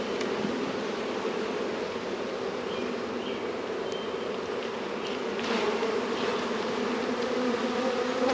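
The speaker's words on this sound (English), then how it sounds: "shake those bees that are on the tree that came back" A honey bee swarm being shaken from a tree into a box, a dense, steady droning buzz of many bees close by, swelling slightly louder near the end, with faint rustling and no talk.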